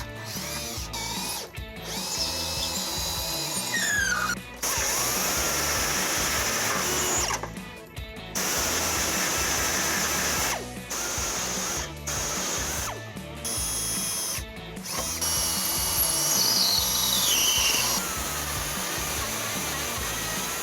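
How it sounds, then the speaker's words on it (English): A power drill boring a hole with a 3/16 drill bit during a trailer hitch install on a 2013 Toyota Camry, a close, continuous whirring grind broken by several short pauses and restarts. "I'm going to start off with a 3/16 drill bit"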